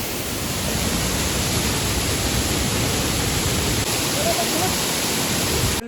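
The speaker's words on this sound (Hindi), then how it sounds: "ये देखिए जी पानी का प्रेशर कितना ज़्यादा तेज है" Fast, high-pressure river water roars steadily and loudly at a mountain trek crossing on the Madmaheshwar route, a dense, unbroken rush that fills the whole scene.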